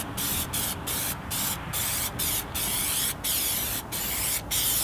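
A spray coating is applied to a rolled whip in repeated bursts of hissing spray, close and fairly loud, each burst separated by a brief gap.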